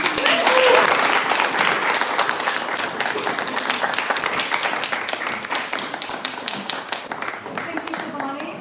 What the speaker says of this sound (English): Can we give one more big round of applause